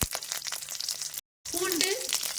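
Mustard seeds, urad dal and ginger sizzle and crackle in hot oil in a pan, a steady hiss that breaks off briefly. Someone talks over the frying.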